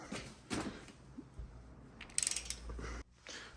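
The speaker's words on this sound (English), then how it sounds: "Put our socket on, now tighten her down." A socket ratchet tightening a main bearing cap bolt on a small-block Chevy 383 stroker engine: a short burst of quick clicking in the middle, with faint shuffling and handling noises around it, quiet and close, no speech.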